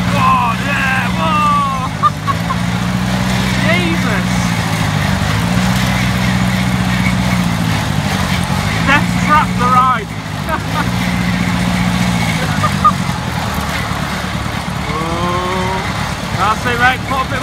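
An engine at a funfair revving as more throttle is applied, a loud droning hum with pitch rising and falling in repeated surges, under overlapping voices and crowd chatter.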